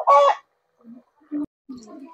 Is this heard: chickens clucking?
yes